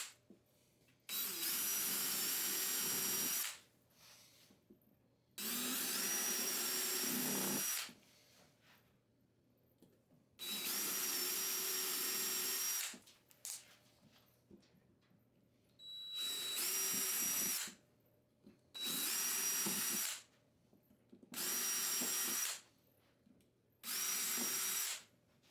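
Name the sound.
drill pre-drilling holes in wood 2x2s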